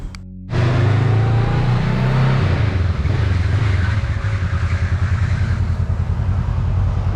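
A 2021 Honda Rebel 500 motorcycle pulls away on a test ride, its engine kicking in loudly and throbbing steadily as it accelerates, close to the rider over rushing wind.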